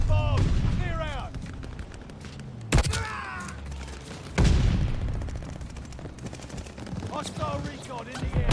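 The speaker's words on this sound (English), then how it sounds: "Incoming bomb! Clear out!" In the Call of Duty Vanguard game, an incoming bomb strikes with two heavy, sudden blasts amid steady gunfire and battlefield noise, with in-game voices chattering over the fighting.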